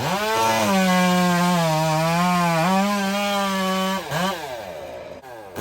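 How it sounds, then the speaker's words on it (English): An 86cc chainsaw with a round-filed racing chain cuts through hardwood, its engine screaming at a high steady pitch that dips and recovers under load and falls away near the end. "it's moving through this stuff pretty good. That's an 86cc power saw."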